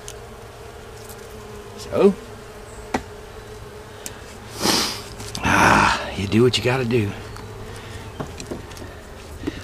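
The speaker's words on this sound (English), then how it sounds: "I got a log full of bees." A swarm of bees in a log during a November hive removal buzzes steadily in the background, while someone speaks and gasps and sighs close by.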